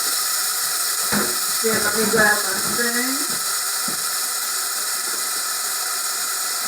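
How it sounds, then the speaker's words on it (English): Rinsed vegetables sizzle in hot olive oil in a soup pot, a steady bright hiss running throughout beneath a short spoken remark. "You can hear that sizzle."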